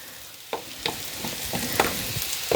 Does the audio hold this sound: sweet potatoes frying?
yes